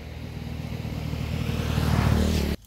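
A motorcycle passes close by on a road in Con Dao, Vietnam, its engine drone rising steadily in loudness over about two and a half seconds before cutting off abruptly, with no talking.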